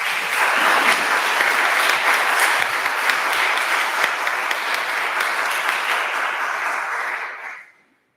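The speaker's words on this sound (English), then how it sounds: "Let's give them all a round of applause for Don." Sustained applause from an audience at a community forum on affordable housing, dense and steady for about seven seconds before quickly dying away, with no talking over it.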